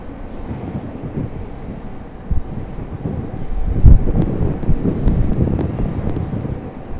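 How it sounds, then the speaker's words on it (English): Gusty wind blows across an open airfield at Raleigh-Durham International Airport, a rough low rumble of buffeting against the microphone that swells and surges in uneven bursts, with no talk. "Boy, that wind is quite gusty."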